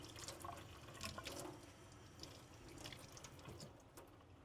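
Tap water runs and splashes as PPE is rinsed, a soft continuous wash of trickling and dripping with small splashy bursts, faint and close without voices.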